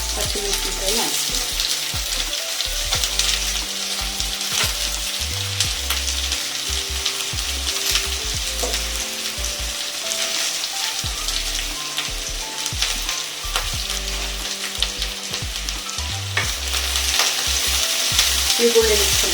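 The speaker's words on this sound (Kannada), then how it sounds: "ಎಣ್ಣೆ ಹಾಕ್ತಾ ಇದ್ದೀನಿ, ಈರುಳ್ಳಿ ಹಾಕ್ತಾ ಇದ್ದೀನಿ, ಹಸಿಮೆಣಸಿನಕಾಯಿ ಹಾಕ್ತೀನಿ." Onions and green chillies fry in hot oil for a mutton and field bean curry, with a steady loud sizzle and repeated scraping stirs of a spoon in the pan throughout. No one speaks.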